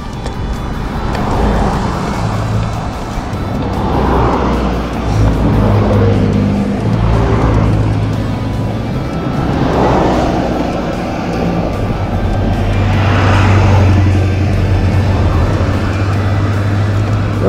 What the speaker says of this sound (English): Where all these cars come from?